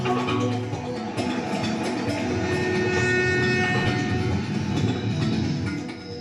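A train rumbles steadily along the rails in the Democratic Republic of the Congo, with continuous clattering and rattling of wagons, loud and close throughout, no voices.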